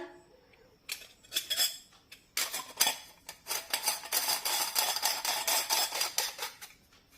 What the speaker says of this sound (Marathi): ही प्लेट या साच्यामध्ये व्यवस्थित बसून घ्यायची